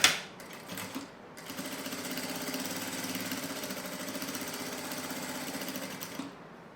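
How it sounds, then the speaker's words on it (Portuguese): Sewing machine stitching a seam to hold a fabric flap on a small cosmetic bag, a brief start and stop, then a rapid, steady mechanical chatter for several seconds, close and clear, ending abruptly. "vou passar uma costura prendendo essa aba"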